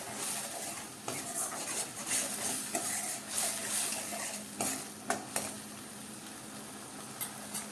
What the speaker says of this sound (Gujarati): મસાલો એડ કર્યા પછી હવે આપણે થોડું આ રીતે ફેરવતા જઈએ